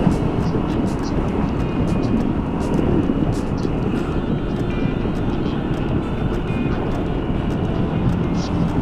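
A top-heavy scooter's engine runs at full throttle climbing a steep, technical road in Arizona, a steady loud drone mixed with rushing wind noise throughout.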